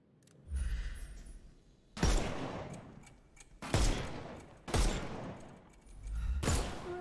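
Bursts of gunfire in a Sherlock Holmes police-training video game as enemies' armor is shot off: four loud, sharp volleys spaced about a second or two apart, each with a booming low thump and a decaying tail.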